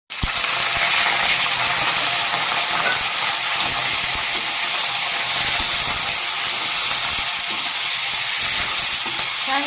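Pork sizzling in a hot pan, a loud, steady crackling fry that runs unbroken from start to finish, close up, with no talking over it.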